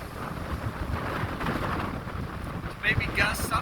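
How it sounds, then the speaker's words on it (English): Strong coastal wind gusting at about 50 mph, up to 70 mph, at Goat Rock State Beach, roaring and buffeting a phone microphone steadily throughout, with surf spray conditions and brief higher bursts near the end. "the wind speed right now is probably a steady 50,"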